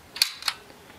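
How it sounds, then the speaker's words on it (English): Shutter of a Debonair 120 film camera firing, two sharp mechanical clicks in quick succession, close and crisp, followed by a faint trailing tick. "Damn, the shutter's intense."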